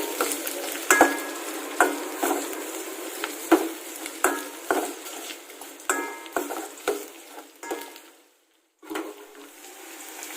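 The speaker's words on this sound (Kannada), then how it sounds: "ಈಗ ಈರುಳ್ಳಿ ಮತ್ತೆ ಕ್ಯಾರೆಟ್ ಒಗ್ಗರಣೆಯಲ್ಲಿ ಬೇಯ್ತಾ ಇದೆ" Onion and carrot pieces frying in a tempering for cabbage masala rice, a steady close sizzle broken by repeated sharp scrapes and clacks of a spoon stirring the pan, with a brief lull near the end.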